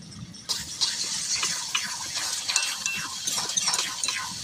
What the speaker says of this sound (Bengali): টক দই দিয়ে আবার নেড়ে নেব।